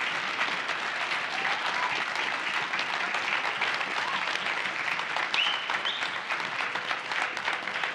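Steady, dense applause from an audience at the SAINTCON 2024 closing ceremony, filling the room evenly from start to finish with no voices standing out.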